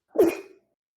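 A single sharp sneeze, close and loud, over in under half a second, followed by silence.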